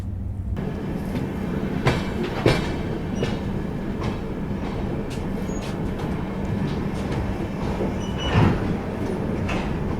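Malda–Delhi Farakka Express passenger train on Indian rails, a steady close rumble of wheels and carriage with a few sharp clanks and squeaks, no voices.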